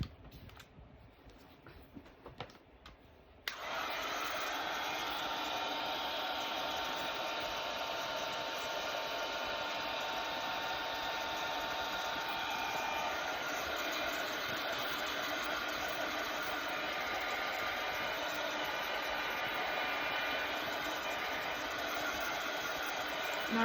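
A loud, steady whir of a hair dryer or heat tool blowing over paint on a wooden bread board, starting after a few quiet seconds and running unbroken to the end.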